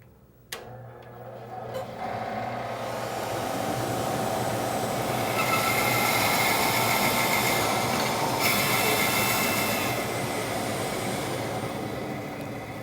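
A bandsaw runs steadily while making a freehand cut through a piece of wood, a sustained loud broadband whine and rasp that builds after a short start and holds for the length of the cut, with no talking.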